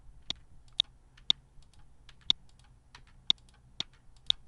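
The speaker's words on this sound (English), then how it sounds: "can just hit the R on the keyboard, it's much quicker" Single computer keyboard keys are tapped one at a time at a steady, unhurried pace, seven or eight crisp clicks close to the microphone over a quiet background hum.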